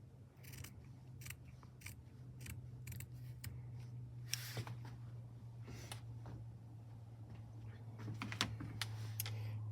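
Sewing scissors snip open fabric beside a stitching line in a run of quick, close, crisp cuts, with short pauses between groups over a steady low hum.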